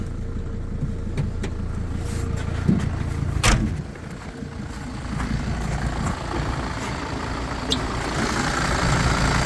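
The engine of a Mercedes Sprinter 312 car-transporter tow truck runs at a steady idle close by, a continuous low rumble broken by a few sharp knocks and clicks.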